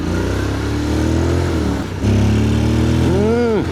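A Honda X-ADV 750 scooter's engine pulls hard through the gears, a close, loud droning note that dips at a shift and then climbs again in a rising rev.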